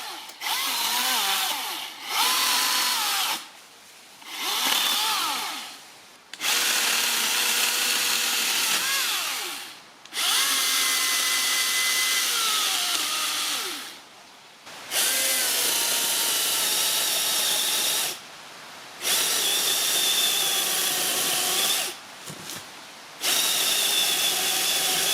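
Milwaukee M18 cordless chainsaw cutting wood, motor whining loud and close in repeated bursts of several seconds each, separated by brief pauses as the saw stops and restarts.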